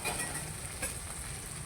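Onions, green chillies and garlic sauté in a pan as the base for a crab curry, making a brief, steady sizzle with no talk over it.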